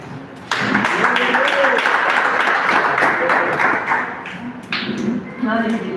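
A church congregation claps for Jesus during a service, a dense run of close, loud clapping with a preacher's voice carrying over it and tapering off near the end.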